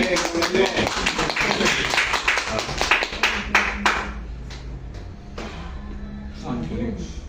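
A church congregation claps their hands in quick, rhythmic bursts during a Spanish-language sermon, with sharp dense claps for about four seconds, then fading into lighter scattered claps as a voice speaks.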